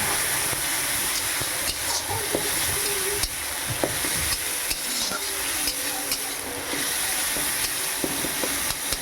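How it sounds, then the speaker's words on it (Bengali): Pond pangas fish fries in a pan with turmeric, chilli powder and a splash of water, giving a steady, close hissing sizzle with faint stirring sounds throughout and no talking. "এবারই আমি এখানে হলুদ, লঙ্কা গুঁড়া, সামান্য জলটা ঢেলে দেব।"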